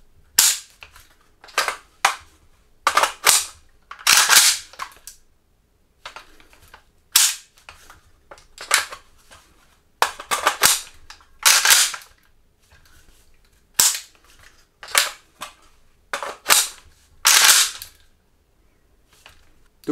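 AK-47 rifle fitted with an extended magazine firing a long series of sharp shots, singly and in quick bursts, loud and close with short gaps between them, no talking.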